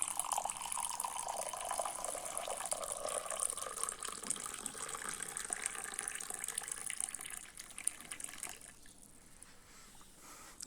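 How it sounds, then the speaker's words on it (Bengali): Hot water poured into a magic mug, a continuous close splashing pour that softens slightly toward the end. "আমরা গরম পানি ঢালছি"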